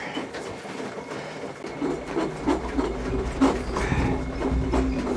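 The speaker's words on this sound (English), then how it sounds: "Arya is ready to begin cabling the drain." A drain cleaning machine turns a solid core cable fitted with a 2-inch cutter, driving through a riser into a thick grease blockage; a steady low mechanical rumble with rattling, clattering strikes builds and continues throughout.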